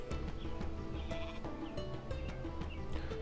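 Sheep bleating in the strategy video game Northgard, a few short faint bleats over a dense bed of game music and ambience, without talk.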